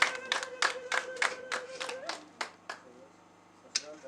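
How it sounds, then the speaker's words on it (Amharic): A church congregation claps hands in bursts of roughly even beats that thin out toward the end, with a sustained tone and room noise underneath. "አጨብጭቡ።"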